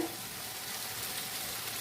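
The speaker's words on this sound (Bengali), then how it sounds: "ওদিকে আলুগুলো ভাজা হচ্ছে" Potatoes fry in oil in a pan with a steady, soft, continuous sizzle, faint and even throughout, and no talking.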